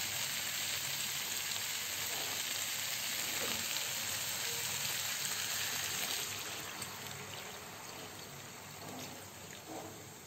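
Fish and potatoes cook in a pan with added water, giving a steady, close sizzle and bubbling that holds throughout and eases slightly toward the end, with no talking.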